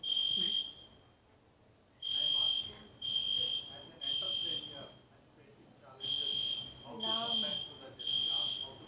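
A building fire alarm sounds a loud, piercing electronic tone in repeated beeps about a second long with short gaps, while people talk underneath in a conference setting.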